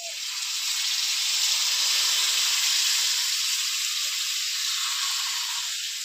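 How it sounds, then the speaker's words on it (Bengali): Marinated chicken sizzles loudly in a hot kadai as it is sautéed for chicken biryani, a steady, bright hiss of frying that holds evenly for several seconds without talk. "দিয়ে এবার মাংসটা একটু কষিয়ে নেব"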